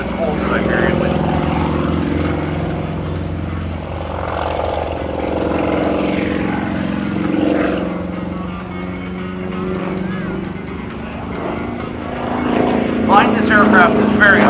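A Sukhoi Su-26M aerobatic plane performs an airshow demonstration at Geneseo, New York, its propeller engine a steady, loud drone throughout, with a voice talking over it.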